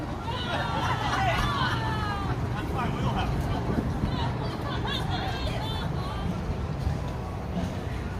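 A big crowd chatters in a dense, steady babble of overlapping voices, loud and continuous throughout, with no single voice standing out.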